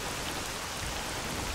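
Steady hiss of falling rain in the video game S.T.A.L.K.E.R.: Shadow of Chernobyl, a dense, even patter filling the whole moment with no voices.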